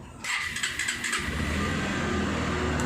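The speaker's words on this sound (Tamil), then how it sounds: "நம்ம எத்தனை டைம் நம்ம வந்து செல்ஃப் ஸ்டார்ட் பண்ணாலும் கரெக்டாக வந்து செல்ஃப் ஸ்டார்ட் ஆகும்" A Bajaj Pulsar 150 BS6 motorcycle fires up on its electric self-starter: a brief starter whir, then the engine catches and settles into a steady, close idle.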